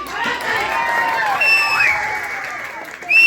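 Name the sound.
audience clapping at jatra performance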